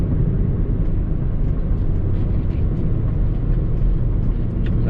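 Volvo V70R wagon engine drops a gear on the approach to a roundabout, a steady loud low rumble of motor and road noise with no clear rev spike, continuous throughout from inside the cabin.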